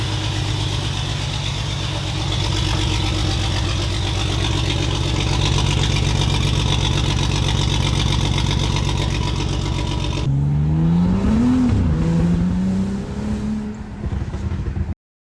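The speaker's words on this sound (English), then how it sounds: "Car's running good and sounds pretty cool" A car running after new ignition coils were fitted, heard up close with a steady rough idle and rhythmic engine pulses, then a rising and falling rev near the end.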